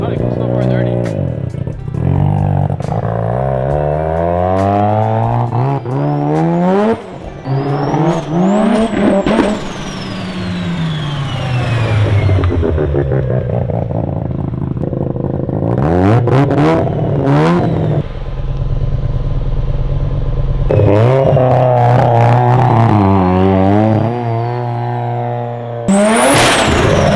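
A Mazda FC RX7 with a fully built 13B rotary engine revs loudly and close by in a shop, with repeated sharp climbs and drops in pitch between idling stretches, and people talk around it.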